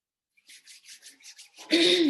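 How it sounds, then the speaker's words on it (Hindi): Two hands rub briskly together in a quick series of about eight short dry swishes, close and soft, before a louder burst of sound cuts in at the end. "दोनों हाथों को रब करेंगे।"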